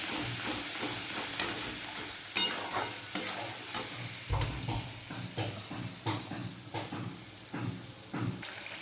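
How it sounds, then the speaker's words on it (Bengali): Ground spice paste frying in a pan for pomfret fish curry, with a continuous sizzle under repeated scraping stirs of a spoon against the pan, close and moderately loud, with no talking. "মশলাটা দিয়ে কষিয়ে নেব"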